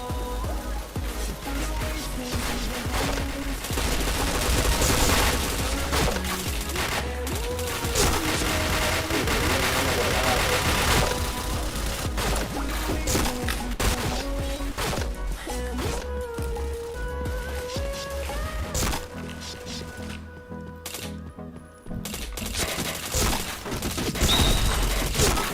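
Gunfire from the online shooter PointBlank: bursts of shots run throughout a dense, loud game mix with music-like tones, with occasional voices in the background.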